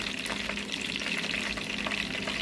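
Steady, dense sizzling of chicken nuggets frying in hot oil, with continuous crackle and pops throughout and no talking.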